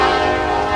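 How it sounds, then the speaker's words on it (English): A BNSF train passes by a construction site, a loud, steady, close rumble with sustained horn-like tones throughout the brief moment, no voices. "We have to shut down work anytime a train comes through."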